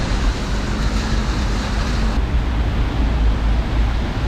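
Heavy rain pours down in a Seoul street, a dense, steady hiss of downpour and wind rush close to the microphone, continuous and unbroken throughout with no voices.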